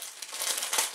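Plastic packaging from an Avon order crinkles and rustles up close, a continuous crackly rustle lasting about a second with no voices.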